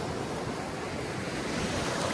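Sea waves at Jesolo beach in Italy, a continuous broad wash of surf mixed with wind buffeting the microphone, steady and enveloping with no distinct individual breakers.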